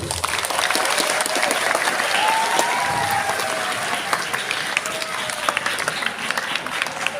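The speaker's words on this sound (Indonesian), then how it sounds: "Tepuk tangan untuk SMP 2." A crowd at a Ramadan religious gathering applauds with continuous, dense clapping that holds steady for several seconds, slightly distant and roomy.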